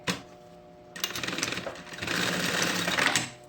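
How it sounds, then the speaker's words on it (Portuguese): A sewing machine stitches a topstitched seam through synthetic fabric and lining on a backpack, in two close runs separated by a brief pause, with a faint background hum. "E vou rebater uma costura"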